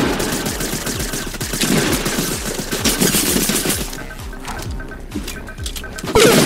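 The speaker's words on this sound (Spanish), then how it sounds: "Me está disparando, pero a mansalva este hombre" Dense automatic gunfire in the Fortnite video game, loud and close in fast rhythmic bursts, easing into scattered shots before a final loud burst, with a voice talking in the background.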